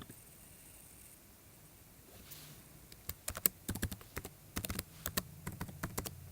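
A password is typed on a computer keyboard, close and fairly quiet, starting after a short pause as a quick irregular run of key clicks with small gaps between bursts.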